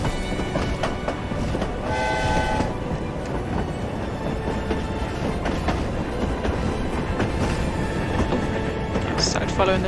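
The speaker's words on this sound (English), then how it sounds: "Started following the train." The Hogwarts Express steam train rumbles past in a video game, a steady broad roar with faint rail clatter throughout, while people talk over it.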